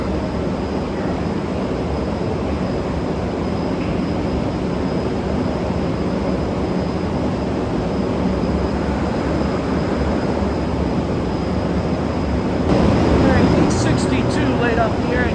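A Long Island Rail Road M3 commuter train set pulls in, a steady broad rumble sustained throughout, growing slightly louder near the end with brief high metallic squeals as it arrives.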